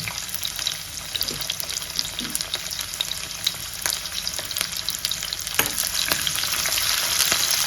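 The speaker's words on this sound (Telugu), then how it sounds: "ఎర్రగడ్డలు వేసుకుందాం చిన్నగా కట్ చేసుకున్న ఎర్రగడ్డలు" Finely chopped onions fry in oil with chana dal and urad dal, a continuous crackling sizzle broken by occasional clinks and scrapes of a stirring spoon against the pan.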